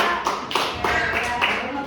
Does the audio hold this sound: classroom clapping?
yes